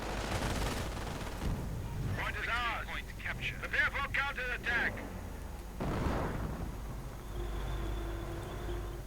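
Machine-gun bursts and grenade blasts rumble through a video game battle as a Sherman tank pounds an MG position. The rattling bursts and booms come in clusters beneath a continuous spoken voice.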